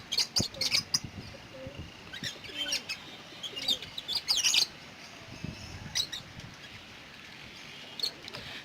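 Pigeons splash in a tub of water during a midday bath in a pigeon loft. Faint splashes and flutters repeat irregularly, with chirps and soft calls over a quiet background.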